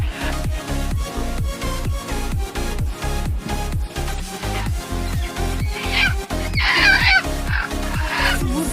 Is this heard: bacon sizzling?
no